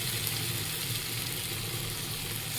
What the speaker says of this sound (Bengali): তো এই যে জল দিয়ে দিয়েছি, তরকারিটা এবার ফুটুক।